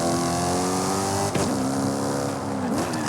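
A Maserati GranTurismo engine in Forza Horizon 5 revs steadily with a rich, even drone, then the tone dips sharply and climbs again as it shifts, a second shift following near the end; loud and close, no talk.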